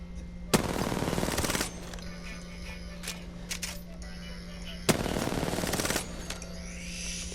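Rapid bursts of R99 submachine gun fire in Apex Legends, two sustained loud strings of shots roughly a second each, separated by quieter in-game ambience with a steady low hum.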